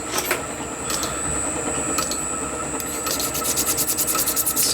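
A metal part for a model oscillating engine is filed to remove a burr, giving close, scratchy rasping strokes. The strokes quicken into a rapid rhythmic series toward the end, with no talking.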